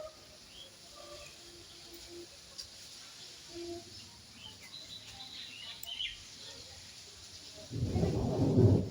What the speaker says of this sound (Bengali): আবার মেঘ ডাকছে গো।